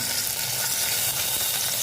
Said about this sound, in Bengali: আর চিকেনটাকে ঠিক এরকমভাবে লাল লাল করে ভেজে নিতে হবে।